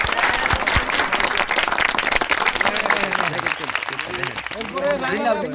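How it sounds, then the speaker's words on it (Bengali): Crowd applause at a badminton tournament final prize ceremony, loud dense clapping with voices calling out over it, shouting becoming more prominent toward the end. "হাততালি দাও"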